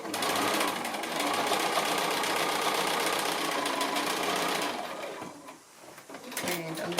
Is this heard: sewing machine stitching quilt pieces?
yes